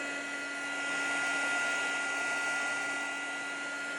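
A heat tool blows on a paper page with a steady, whining electric whoosh that swells slightly and then holds constant, with no other sounds.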